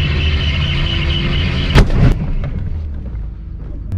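Loud roaring engine drone of a drifting car broken by a sharp, explosive bang of a tire bursting, then a second burst a moment later.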